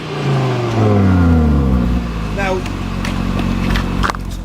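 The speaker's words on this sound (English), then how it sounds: "From the front of the car, you can hear that nice 5-put, but at the rear of the car, you can't hear much at all." An Audi RS3 five-cylinder engine and exhaust hum steadily from the front of the car, with a falling then settling tone under close talking; a few faint clicks come near the end.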